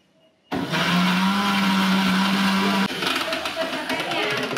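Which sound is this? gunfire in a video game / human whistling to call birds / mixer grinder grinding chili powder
mixer grinder grinding chili powder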